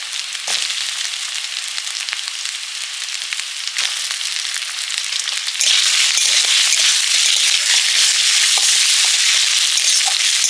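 Capsicum frying in hot oil for chili chicken, giving a steady, bright crackling sizzle that swells louder partway through, with faint pops and stirring scrapes and no talking.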